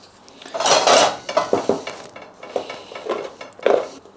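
Leftovers with rice are stirred in a pan over heat, with a close, busy run of a utensil scraping and clinking against the pan and a faint sizzle underneath.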